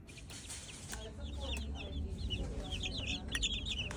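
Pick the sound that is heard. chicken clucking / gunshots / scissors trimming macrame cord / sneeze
chicken clucking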